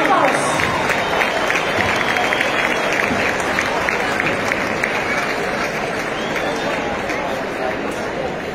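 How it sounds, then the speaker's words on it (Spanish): Sustained, dense audience applause at an IFEVI indoor event for a Galician rondalla string ensemble from Mosteiro Pexegueiro, Tui, steady and loud throughout, with crowd noise and voices underneath. "Recibimos un fuerte aplauso a Rondalla de Mosteiro Pesegueiro, Tui."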